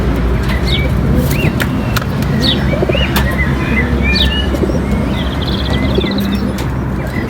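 Young racing pigeons in a loft coo and flutter among steady bird chatter, with occasional chirps and wing flaps over a dense, continuous background at close range.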